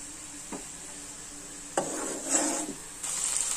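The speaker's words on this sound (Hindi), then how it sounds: "सारा मेल्ट हो गया है मक्खन जो है, अब घी बनेगा।" Butter melting in a pan on the stove to make desi ghee gives a soft, close sizzle, broken by a few light stirring scrapes and clinks.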